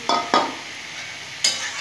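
Data saag greens with fried brinjal hit by a spatula in a hot pan, two quick scraping stirs then another a second later over a soft steady sizzle.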